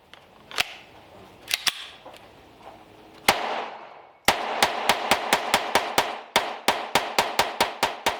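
A Sig Sauer P322 pistol fires CCI standard velocity rimfire rounds: a few scattered sharp cracks, then a rapid, evenly paced string of about fifteen loud, close shots.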